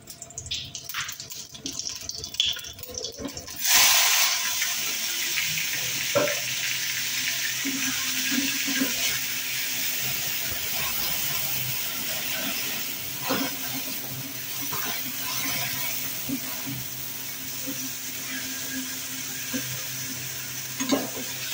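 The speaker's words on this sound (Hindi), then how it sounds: "अब हम तड़का लगा रहे हैं।" Spices for a dal tadka hit hot oil with a sudden loud sizzle that then settles into steady frying crackle with occasional stirring clinks.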